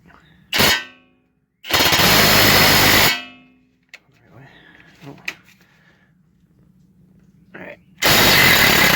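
A Masterforce 20-volt half-inch drive impact wrench hammers on 19mm caliper bracket bolts: a short loud burst, a longer rattling run of about a second and a half, quieter clanks and handling, then another loud burst at the end.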